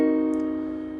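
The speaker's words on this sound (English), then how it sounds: "Next is the half diminished seventh chord." A half diminished seventh chord struck once on a piano, its tones sustaining steadily and slowly fading over about a second with no talking.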